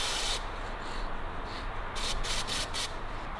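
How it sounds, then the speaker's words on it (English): Short hissing bursts of freeing spray squirted onto a Harley-Davidson WLA gearbox part, several quick close sprays in a row with no talking. "So just give it a little squirt with some freeing."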